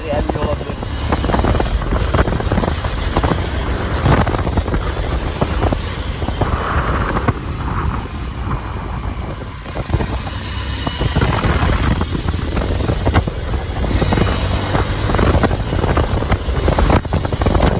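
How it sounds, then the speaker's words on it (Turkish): Continuous loud wind buffeting and roar while riding a Honda CBF 150 motorcycle on a windy day, steady throughout with engine and road noise underneath, and a rider's voice mixed in. "Hava birazcık rüzgarlı,"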